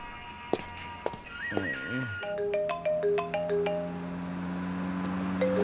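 A melodic phone ringtone plays a repeating sequence of clear electronic tones, preceded by a few sharp clicks and a short musical trill.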